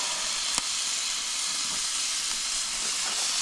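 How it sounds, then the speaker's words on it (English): A Coleman Road Trip 285 propane grill burner hisses steadily as food cooks on it, a dense, close, unbroken rush with a faint click early on and no talking. "Let's turn down this burner."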